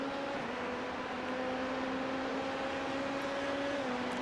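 A race car engine in the iRacing sim at Fuji drones steadily at high revs along a straight, a sustained loud whine with no talking.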